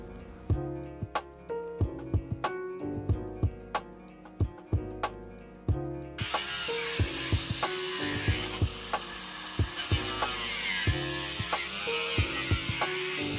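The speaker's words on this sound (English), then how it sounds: "We're gonna cut the roof off." Cheap Harbor Freight power tools cutting the roof off a bus, starting with a run of sharp rhythmic metallic clanks and then shifting into a loud, continuous, harsh grinding rasp with repeated hits beneath it.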